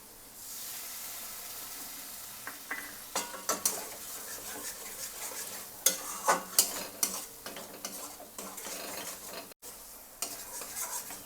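Spoon stirring kofta gravy with tomato ketchup in a frying pan, steady sizzle and hiss with irregular scraping clinks and taps against the metal, close and moderately loud, no talking.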